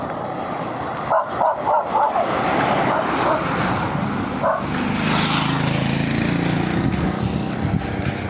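Dogs bark in several quick yips and woofs early on, close and fairly loud, followed by a lower steady engine-like drone.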